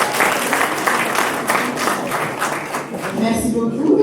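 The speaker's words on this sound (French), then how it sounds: "Vous applaudissez, s'il vous plaît." Audience applause at an art exhibition opening, a continuous, fairly loud wash of many people clapping with a few voices rising near the end.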